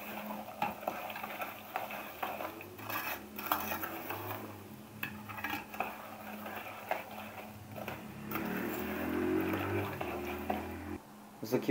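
Scraping and clinking as red cherry plum jam is stirred in a pot over low heat on a gas stove, with soft intermittent knocks and a quiet simmering hiss underneath.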